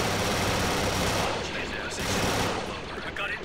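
Rapid, continuous bursts of blaster fire crackle through a loud Star Wars video game battle against Geonosians, layered over heavy, dense combat noise throughout.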